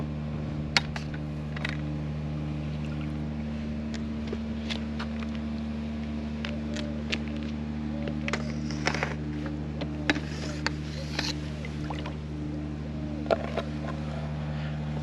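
A motor runs steadily in the background beside an outdoor swimming pool. The drone stays constant under scattered faint clicks and small knocks.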